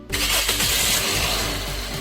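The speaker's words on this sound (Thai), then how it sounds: "เดี๋ยวผมสตาร์ทให้ฟังเสียงเครื่องยนต์นะครับ" A 2012 Toyota Corolla Altis 1.6 CNG engine cranks and catches, then settles into a steady, close rumbling idle.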